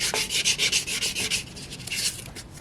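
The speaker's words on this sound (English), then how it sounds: "It's basically a very, very fine sandpaper. I'm going to see what I can do to clean up the commutator with it." Fine crocus cloth scrubs back and forth across the copper commutator of an electric motor, a steady series of quick, close, hissing rubbing strokes with no talk.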